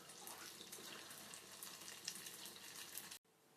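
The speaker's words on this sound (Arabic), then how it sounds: "وارجع اذبها بالزيت" A doughnut fries in hot oil with a busy, bubbling sizzle that runs steadily at close range before cutting off abruptly near the end, leaving a faint hiss.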